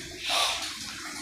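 Water is pumped in to fill a new aquarium. A brief, fairly faint rushing gush swells early and then settles into a softer hiss.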